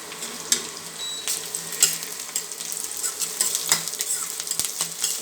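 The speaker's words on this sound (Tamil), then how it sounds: "இப்போ நான் கருவேப்பில் போடுறேன்" Curry leaves go into hot oil for a spicy sundakkai vathal kuzhambu and set off a close, crackling sizzle with a run of small pops and spits all the way through.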